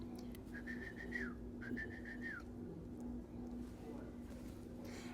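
Two short, high whistling chirps from an emu chick, each ending in a falling slide, over a steady low hum and faint murmuring voices.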